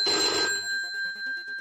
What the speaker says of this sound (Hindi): अरे खेसारी भैया, आपका पापा फोन उठा लिए हैं।